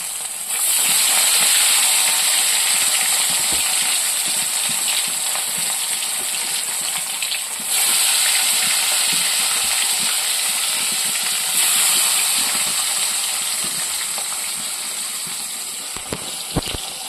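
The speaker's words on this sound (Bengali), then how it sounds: "এখন আমি মাছটা ভাজা করে নেব।" Steady loud sizzle and crackle of fish frying in hot oil, continuous throughout with a few brief pops, no voices.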